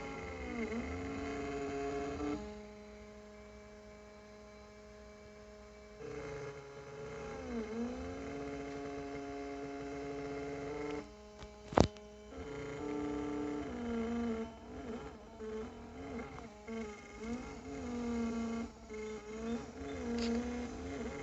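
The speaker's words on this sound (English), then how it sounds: "that seems like a new noise that my laser's making" A laser engraver hums steadily with a low mechanical drone, punctuated by faint rattling and one sharp click midway; no voices, fairly quiet.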